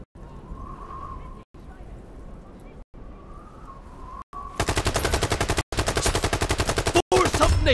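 AK-47 fire in the shooter game Brothers in Arms 3: loud, close, rapid automatic bursts separated by short pauses, first lighter crackling, then dense sustained rattling volleys.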